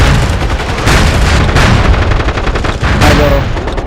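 Loud, close machine gun fire in the PlayStation 3 shooter MAG, with rapid sustained bursts and brief gaps, as heavy gunfire dominates the whole stretch.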